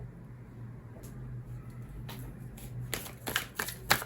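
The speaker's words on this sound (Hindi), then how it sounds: "और कुछ कार्ड्स निकालते जाने की कोशिश करते हैं।" A deck of cards is shuffled and drawn during a card-reading session: quiet handling at first, then a burst of crisp, close riffling and flicking in the last second or so, with no talking.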